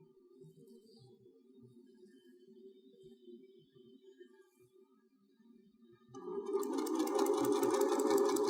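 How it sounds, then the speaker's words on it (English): A sewing machine stitches the seam of a quilted fabric trivet, a low steady whir that swells louder and busier over the final couple of seconds. "quickly sew the rest of this seam closed"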